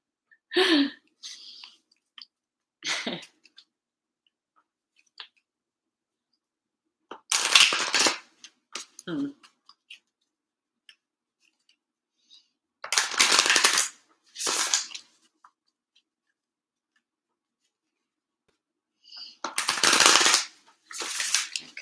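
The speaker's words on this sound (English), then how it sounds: "I'm giving these a really good shuffle" Playing cards are riffled in several short, crisp bursts separated by pauses of near silence, close and fairly loud.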